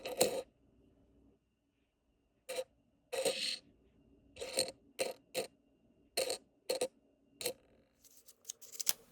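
Canadian 25-cent quarters poured out of opened, hand-rolled coin rolls: repeated short bursts of metallic clinking and rattling up close, separated by quiet pauses.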